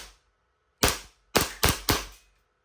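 Four loud, close shots from an Army Armament R501 Costa Ludus gas blowback airsoft pistol: a single crack, a pause, then a quick burst of three evenly spaced snaps, with no talking.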